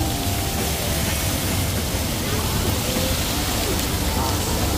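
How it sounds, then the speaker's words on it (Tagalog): Steady rain falls outdoors at a Singapore tourist spot near a fountain, a dense, even hiss that continues without a break. "Umuulan pala dito, sir."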